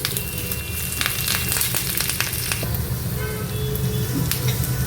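Curry leaves and dry red chillies fry in hot oil for a mango pickle, a steady close sizzle with scattered crackles and pops throughout.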